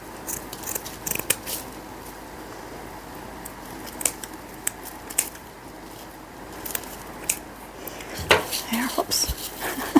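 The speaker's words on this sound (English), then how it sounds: "I think I'll just trim some of this extra burlap off down here." Scissors trim extra burlap on a front entrance table display. Crisp, close snips come in scattered bursts, with soft rustling of the fabric between cuts.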